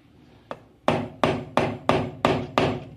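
A hammer drives a nail into wood while key hooks are fitted to a wooden key holder: one light tap, then six loud, sharp blows at a steady, even rhythm, close by and with no talk.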